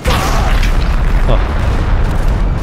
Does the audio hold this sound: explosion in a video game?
yes